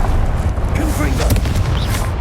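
A Confringo fire spell explosion in the video game Hogwarts Legacy, heard as a dull, rumbling boom under game ambience with faint magical whooshes and chimes layered on top.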